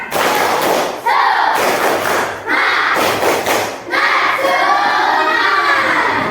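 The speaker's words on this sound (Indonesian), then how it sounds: "Tepuk semangat." A group of schoolchildren in a classroom perform a loud rhythmic clapping chant in several bursts, their shouted voices and claps filling the room with brief pauses between rounds.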